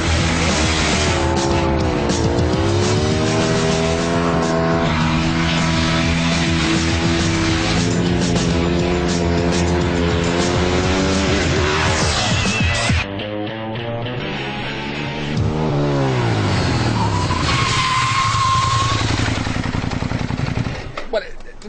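A Ducati 1098 motorcycle races a Lamborghini Gallardo Superleggera, loud engines revving and shifting through gears in rising and falling sweeps, with a sharp drop partway through before climbing again, loud and continuous under wind noise.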